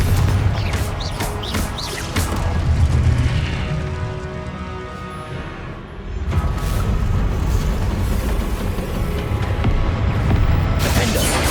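Confringo blasting spell bursts from Hogwarts Legacy combat, a dense run of booming, crashing magical explosions layered over busy game effects, with a brief dip midway before the loud blasts resume.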